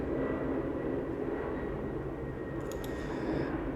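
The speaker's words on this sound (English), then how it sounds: "That airplane be so loud." An airplane passes overhead, heard from indoors as a steady low broadband roar that holds at moderate loudness, with a few faint clinks near the end.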